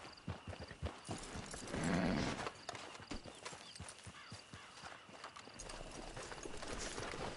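Horse hooves in Red Dead Redemption 2 Online, a steady rhythmic clip-clop of a trotting horse heard up close for several seconds, with a brief whinny-like swell near the start and no talking over it.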